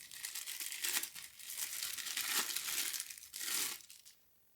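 Plastic wrapping around a camera lens hood for a Sigma 18-50mm F2.8 lens is crinkled and handled in close, busy bursts of rustling that run for a few seconds, then stop abruptly.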